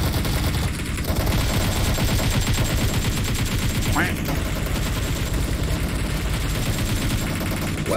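Rapid automatic gunfire in the PUBG Mobile game rattles in dense, continuous bursts, loud and close, while players talk over it.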